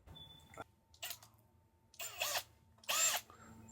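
A 3/8-inch drill bit is run in short, separate bursts while notching a boarding step on a 2010–2017 Sea-Doo, giving three brief whirring spurts with quiet pauses between them, close but fairly soft.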